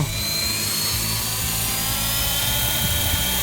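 An RC AS350 model helicopter's rotor whirs at steady high speed, a loud continuous buzzing drone with a thin high whine layered on top, close by and without talk.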